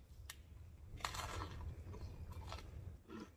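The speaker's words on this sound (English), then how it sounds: "I'm going in for a bite. And I want you to hear the crunch." A crisp, crunchy bite into a fried fish taco, close up, with a few sharp crackling bursts and chewing between them and no talk.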